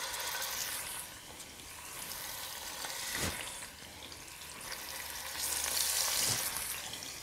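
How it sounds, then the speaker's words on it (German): Mulled-wine cheeks searing in melted clarified butter inside a Dutch oven, giving a steady broad hissing sizzle that swells and eases over several seconds, close up with no voices. "dann legen wir die Bäckchen rein und braten sie scharf an"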